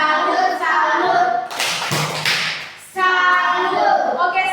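A class of schoolchildren claps a rhythmic greeting clap for a group, a dense burst of hand claps lasting about a second and a half, set between stretches of speech and chanting voices.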